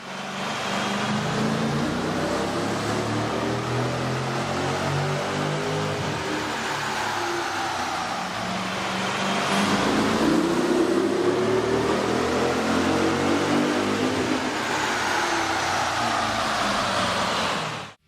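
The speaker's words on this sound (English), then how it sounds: "we ran the vehicle on the dyno to test the sound comparison versus the stock intake." A car fitted with a K&N 63-1565 cold air intake runs on a dyno, its engine droning steadily and climbing in pitch as it revs, loud and close with a rising whoosh of induction.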